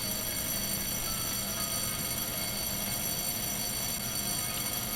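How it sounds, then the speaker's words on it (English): An alarm in the Freddy and the Gang 2 demo game blares as a dense, continuous ringing tone, loud and unbroken, with no voices over it. "Play the alarm."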